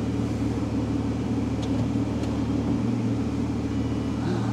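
An Aston Martin V12 Vantage Roadster idles nearby with a steady, deep, even rumble that holds for the whole stretch.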